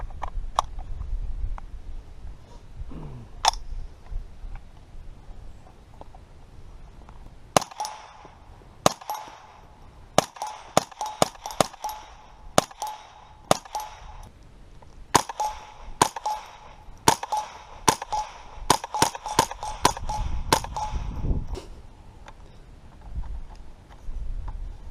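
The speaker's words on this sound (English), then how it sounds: "I'm going to shoot several rounds without the suppressor at my swinging steel targets here" An unsuppressed M&P 15-22 rifle fires a string of sharp cracks at swinging steel targets outdoors, some spaced and others in quick clusters, each with a ringing metallic ping, with no talking.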